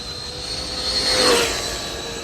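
An H&R RC rally car at full throttle gives a high-pitched electric whine that swells to a peak and eases off in one brief pass, with no one talking.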